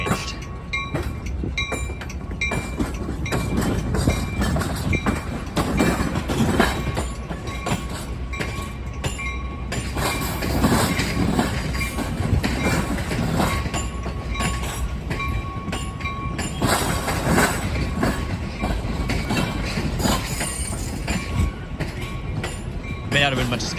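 A BNSF freight train rolls past at Roosevelt Road, a continuous loud rumble of railcars with rhythmic wheel clatter and faint squeal, with a voice talking over it at times.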